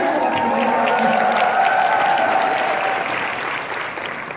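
Seminar audience at a Korean business rally claps steadily, a close, dense burst of applause lasting several seconds with faint cheering mixed in, tapering slightly at the end.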